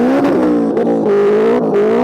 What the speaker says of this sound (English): we're now lining up for the drag race